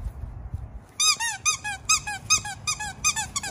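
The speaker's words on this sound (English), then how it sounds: "And it has a squeaky." Squeaky toy inside a wrapped Christmas present squeezed repeatedly, about nine sharp high squeaks in an uneven rhythm, close and loud with no talking.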